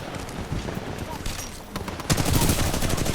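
Rapid gunfire in the video game Titanfall 2, bursts of shots growing louder toward the end, with someone talking over the action.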